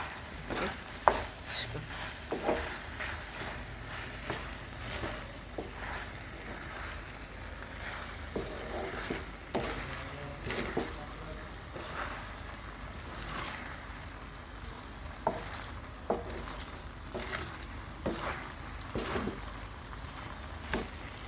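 Cooked mac and cheese being stirred in a pot with sliced cheese, chili flakes, oregano and pepper, giving soft, wet squelching and scraping sounds with periodic spoon knocks against the pot, close and fairly quiet.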